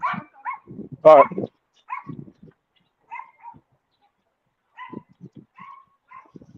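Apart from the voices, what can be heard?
dog barking nearby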